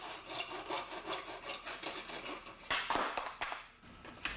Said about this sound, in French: Découpez les tronçons de conduit à la scie à métaux.